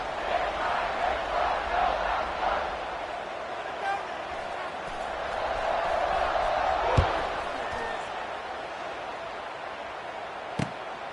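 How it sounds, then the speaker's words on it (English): Stadium crowd noise in the college football video game NCAA 26 after a score, a steady broad roar and murmur that swells midway, with a few sharp thuds and a brief whistle-like tone, under an announcer's commentary. "this crowd is buzzing after that last score"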